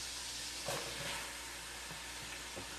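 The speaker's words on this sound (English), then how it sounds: "I add my onions." Onions going into a hot pot for Louisiana jambalaya, giving a steady sizzling hiss with a few soft knocks and stirring sounds over a constant hot-oil wash, with no voice.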